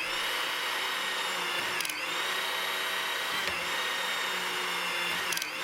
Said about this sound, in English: Using the pump control, advance the wrench so that it rotates the nut.